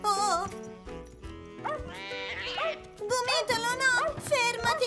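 Cartoon puppy barking in a park, several quick high yips and barks mixed with a lively musical score and voices.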